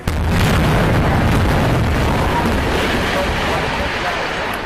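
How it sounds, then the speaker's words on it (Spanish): A controlled demolition blast brings down the rest of the collapsed Champlain Towers condominium in Surfside, Florida, heard as a loud, sustained rumbling roar that stays broad and heavy for several seconds with no voices. "después de la explosión controlada de anoche"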